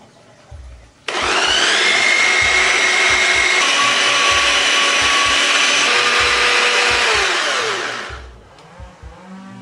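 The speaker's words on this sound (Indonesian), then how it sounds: "Terus kita mau giling pakai choppernya." A food chopper grinds garlic, shallots, chili and shrimp paste: a loud, close, steady motor whine starts abruptly, holds for about seven seconds with the pitch shifting slightly, then winds down and stops.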